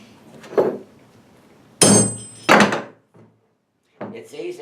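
Hammer blows knocking divots into a vehicle wheel hub to tighten loose lug studs, three sharp metallic strikes at a slow, uneven pace, close and loud, with a softer knock at the end.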